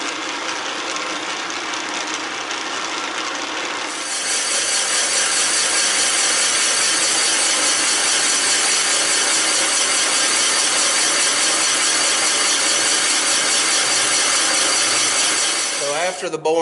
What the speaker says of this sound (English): After the boring bar has completed the boring process